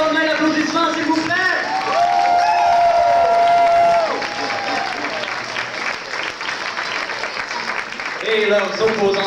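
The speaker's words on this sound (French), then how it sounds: "Équipe des Bleus, une très bonne main d'applaudissements, s'il vous plaît." An audience at an amateur improv theatre match applauds a team, with sustained clapping and crowd noise mixed with whoops and a voice over the top, swelling and then easing off.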